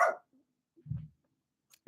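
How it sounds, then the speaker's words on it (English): A dog indoors barks at noise from upstairs: a few short, sharp barks spaced out by near-silent gaps, moderately close. "My dog's going crazy because of upstairs."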